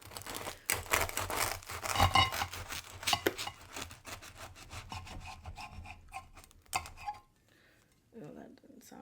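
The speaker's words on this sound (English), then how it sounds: "So let me cut this in half first." A knife saws and scrapes through a Philly cheesesteak to cut it in half, close rasping strokes with crinkling bread and a few clinks, under bits of talking.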